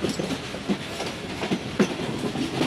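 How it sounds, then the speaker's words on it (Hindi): Pakistan Express, a Karachi–Rawalpindi train hauled by a G40 locomotive, passing at Kotri Junction; steady rolling rumble with rhythmic clickety-clack wheel beats, heard close and alone. "सामने से G40 लोकोमोटिव के साथ एक ट्रेन पास हो रही है"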